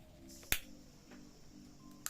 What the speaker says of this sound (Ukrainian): Запалюємо свічку